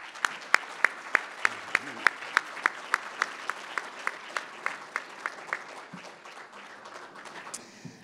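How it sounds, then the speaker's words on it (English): Audience at the 2022 Mt SAC Athletics Hall of Fame banquet applauds the inductees. Sharp, rhythmic claps ring out close and distinct, many in near-unison, then fade into scattered clapping and background murmur. "Can we give them another round of applause?"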